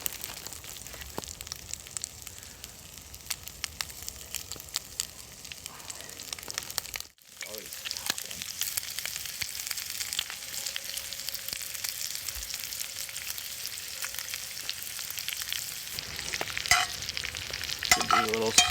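Ham sizzles in a cast iron pan in its own fat, a continuous bright frying hiss with scraping and stirring strokes scattered through it, close up, with a brief drop-out midway and the sizzle swelling toward the end.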